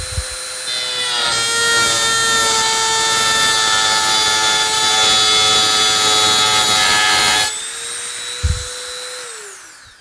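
A Dremel rotary tool cutting a decorative edge, its high motor whine rising as the bit bites in with a steady grinding rasp for about six seconds, then easing back to a free-spinning whine before winding down; close and loud.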